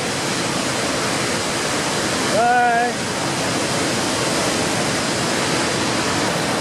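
Victoria Falls waterfall roars as a steady, loud, broadband wash of falling water throughout, with a brief spoken word partway through.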